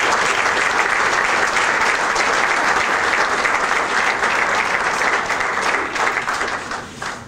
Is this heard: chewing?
no